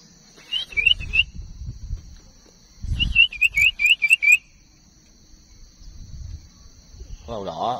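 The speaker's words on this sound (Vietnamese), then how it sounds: "Ở đây nghe có đầu đỏ nó kêu các bạn." A red-headed bird calls in the wild with two bursts of short, bright chirping notes, the second a quick rhythmic run, over low outdoor rumble and a steady high insect drone.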